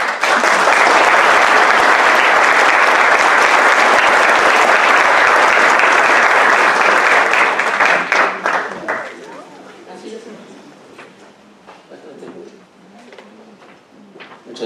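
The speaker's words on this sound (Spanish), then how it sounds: "les pido a todos que lo recibamos con un aplauso" Loud, dense applause from a general-session audience welcoming a doctor, a steady wash of clapping that holds for about eight seconds before thinning out into scattered claps and quieter room sound.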